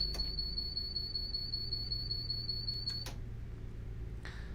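Driver safety device (DSD) alert in the Class 222 Meridian train cab of Train Simulator: a steady high electronic tone repeating in quick pulses for about three seconds, fairly quiet over the low rumble of the cab.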